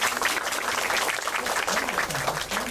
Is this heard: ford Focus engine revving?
no